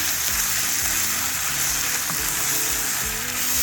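Onion egg masala sizzling steadily in a pan, with a constant hiss of frying and soft repeated scraping from stirring.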